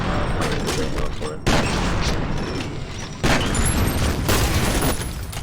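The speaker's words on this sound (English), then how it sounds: "Someone is shooting at me." Sustained gunfire from the shooter game F.E.A.R., a dense continuous fusillade of shots and impacts running through the whole stretch, loud and close, with two sharp bursts of heavier firing.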